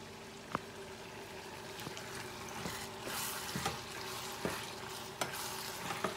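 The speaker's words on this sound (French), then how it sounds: "on va maintenant mélanger le crevette" Shrimp being stirred into a sauce in a pan for catfish with shrimp, a steady low sizzle with a few sharp clinks of the utensil scattered through, close and alone.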